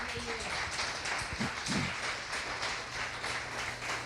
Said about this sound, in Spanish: Dar un aplauso fuerte al Señor.